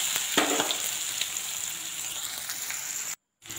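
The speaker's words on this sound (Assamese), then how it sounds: "কেৰাহীত তেল অকণমান গৰম কৰি মিডিয়াম সাইজৰ পিঁয়াজ এটা সৰু সৰুকৈ কাটি দি দিলোঁ" Chopped onion and green chillies fry in hot oil in a wok, giving a steady close crackling sizzle with a few brief stirring scrapes before a short cut to silence near the end.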